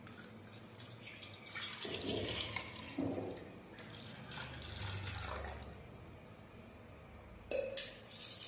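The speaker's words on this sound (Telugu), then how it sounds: "ఫస్ట్ అయితే వాటర్ పోసుకుందాం." Water pours into a bowl in a few splashing bursts, a gurgling, running stream that starts, pauses and resumes, close and moderately loud.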